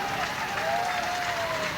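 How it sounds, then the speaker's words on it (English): Crowd applauding at a D-Day 50th anniversary ceremony, a steady wash of clapping heard from a distance, with a faint tone and some murmured voices running underneath. "clapping, applauding."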